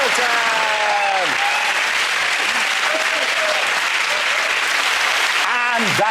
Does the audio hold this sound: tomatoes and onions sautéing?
no